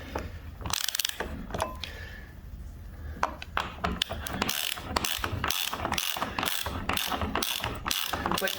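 A large wrench ratchets on a bus part during a teardown, with rapid repeated clicks in uneven bursts, close and fairly loud, with no talking over it.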